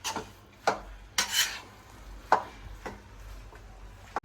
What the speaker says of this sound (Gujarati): જ્યાં સુધી નરમ ના થાય ને પ્રોપર મિક્સ ના થાય ત્યાં સુધી આને પ્રોપર હલાવતું રહેવાનું.